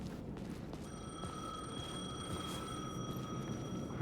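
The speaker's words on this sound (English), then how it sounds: "The payphone was ringing." A payphone rings in the video game Alan Wake 2, a steady electronic bell tone that holds continuously over a low rumbling ambient background.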